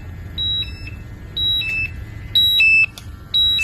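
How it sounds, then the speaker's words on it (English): An oxygen level meter sounds its alarm for a hazardous atmosphere, giving four rhythmic bursts of shrill, two-tone electronic beeps close to the listener, with no talking. "You can hear the alarm going off."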